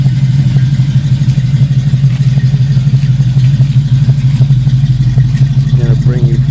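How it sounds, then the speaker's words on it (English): A 1972 Camaro split nose with a brand new 350 crate V8 idles nearby, a loud steady low rumble with a lumpy pulsing beat, and someone talks over it. "You hear how it idles. It's got a brand new 350"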